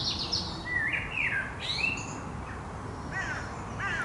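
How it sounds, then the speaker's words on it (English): Several birds chirp and call outdoors, bright tweets and squawking calls coming in repeated bursts over a steady background hiss, fairly close and loud, with no talking. "Can't hear myself think with all these birds talking around here"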